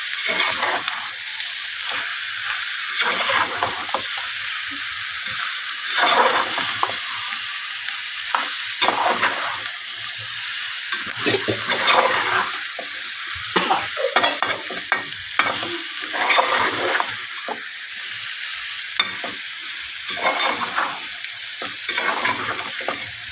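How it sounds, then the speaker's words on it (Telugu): Mutton blood fry with coriander leaves being stirred in a pan, a steady loud sizzle broken by repeated scraping strokes of the spoon across the pan base, continuing close up throughout. "కొత్తిమీర వేసుకొని అడుగంటుకొని కలుపుకుంటూ ఉండాలి."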